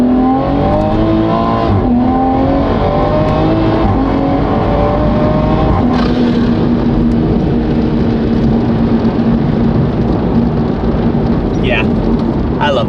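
A turbocharged Toyota Supra with a drag pack and a new turbo accelerating hard down a straightaway, loud engine note climbing through the gears with a rising whine and a shift midway, close and continuous.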